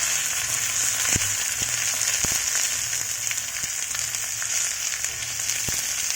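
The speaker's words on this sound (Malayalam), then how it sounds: "കറിവേപ്പിലയും ഇട്ട് കൊടുക്കുക." Curry leaves and shallots sizzle steadily in hot coconut oil for a Kerala-style mackerel fish curry, giving a continuous bright frying hiss with occasional sharp pops and crackles close by.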